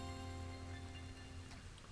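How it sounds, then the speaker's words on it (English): Rain falling in the Pokémon Legends: Arceus video game, a steady hiss of droplets under a droning game soundtrack, fairly loud and continuous throughout. "Okay, another rain. This is never fun. Having rain in this place is the worst."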